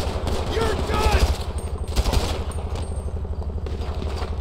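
Rapid automatic gunfire crackles through a chaotic firefight in Grand Theft Auto 5, with bursts of repeated shots layered over game sounds and a voice talking partway through.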